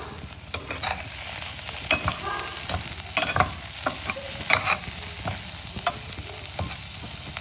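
Tomatoes frying in a pan are stirred with a spoon, giving repeated scraping strokes over a steady close sizzle, with no talking.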